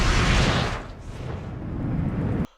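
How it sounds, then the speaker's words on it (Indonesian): A factory blows up in an Agent Carter film scene: a loud, deep roaring blast that fades into a sustained low rumble, then cuts off abruptly. "Pabrik itu pun meledak"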